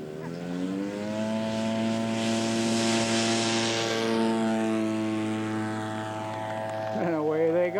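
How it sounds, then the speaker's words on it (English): A one-third scale model aircraft towing a glider at a scale aircraft show, its propeller engine droning loudly and steadily as it passes close by, rising and then fading slightly, with a voice talking over it near the end. "Okay, here goes another glider tow."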